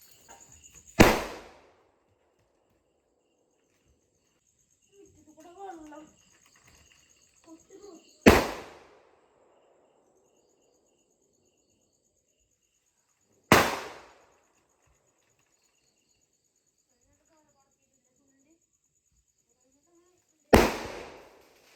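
Firecrackers burst one at a time across a pre-dawn Vishu celebration, four sharp loud bangs spaced seconds apart, with faint insect chirps and a brief murmur of voices in the quiet gaps.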